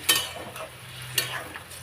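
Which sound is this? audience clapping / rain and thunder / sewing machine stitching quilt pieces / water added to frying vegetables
water added to frying vegetables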